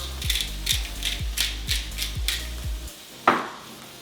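Pepper grinder twisted by hand over a turkey, pepper and rice meal prep, giving about eight quick, evenly spaced ratcheting clicks, close and clear, ending with a single clack as it is set down.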